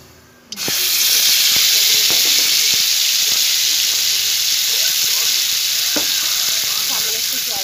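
Nigella seeds drop into hot oil in a wok and burst into a loud, steady hissing sizzle that starts abruptly and keeps going, with faint crackles and pops scattered through it.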